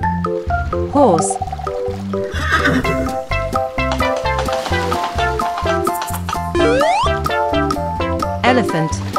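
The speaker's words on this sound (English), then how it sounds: "Horse." A toy horse sound plays a loud, shrill neigh with wavering whinny tones over a busy, bouncy children's music backing.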